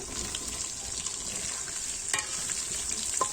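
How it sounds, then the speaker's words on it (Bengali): Chicken pieces for biryani frying in a home kitchen pan, a soft, fairly faint sizzle with a few brief stirring scrapes and clinks of a utensil. "মাংস আমি উল্টে দিছি একবার, এখন আরেকবার নাড়াচাড়া দিয়ে নামাবো এটা"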